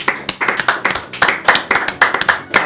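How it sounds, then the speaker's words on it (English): Scattered clapping from a small game-show audience, a dozen or so pairs of hands beating in loose, uneven bursts, close and fairly loud with no voices over it. "Can we have a round of applause for me and Luke?"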